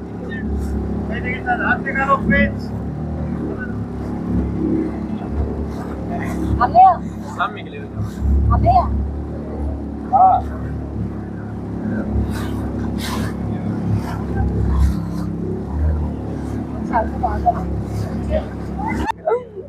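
Speedboat engine running on a lake at Cubbon Park in Bengaluru, a steady low motor hum throughout, with people talking and voices over it.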